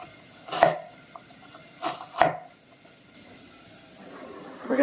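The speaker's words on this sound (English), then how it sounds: "So I am going to try to chop it up real quick." A knife chops vegetables on a board in a home Southern kitchen, three or four sharp close knocks spaced unevenly, then a softer scrape at the end.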